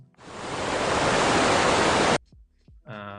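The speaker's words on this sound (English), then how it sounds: "Ambient ocean. Very loud." An ambient ocean sound effect played very loud: a dense roaring hiss of surf that swells in and cuts off abruptly, followed by brief clicks and a short snippet of music.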